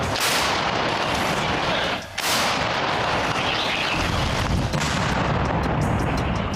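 Powerful booming blasts of an artillery gun firing in Ukraine, loud and close, with a rumbling roar that fills the space and a brief gap between shots.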